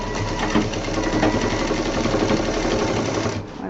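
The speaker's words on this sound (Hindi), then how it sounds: "और ये जो सिलाई कर रहे हैं" A sewing machine stitches handbag fabric with a wooden-bead belt attached, running in one steady, loud, continuous whir for nearly four seconds before stopping abruptly.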